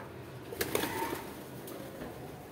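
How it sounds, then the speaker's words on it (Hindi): Pigeons gather to eat scattered grain outdoors, giving a few soft, brief coos and flutters against faint background noise. "ये देख सकते हो गाइस कितने सारे कबूतर आ गए हैं"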